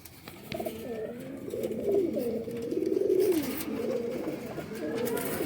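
Teddy pigeons coo nearby in soft, rolling, repeated calls over a faint steady background hum.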